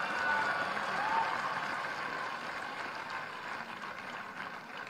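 Audience clapping throughout an auditorium hall at a Lucknow sports awards ceremony, a broad steady round of applause that gradually eases off.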